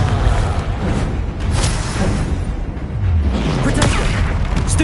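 Explosion spell from the game Hogwarts Legacy, a loud, dense rumbling blast with whooshing bursts filling the whole stretch, under a game soundscape.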